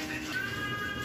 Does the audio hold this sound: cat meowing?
yes